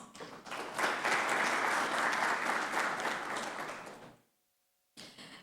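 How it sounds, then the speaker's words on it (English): An audience at an aluminium recycling forum applauds loudly in a dense, sustained burst for about four seconds before cutting off abruptly into silence. "Can we have a huge round of applause?"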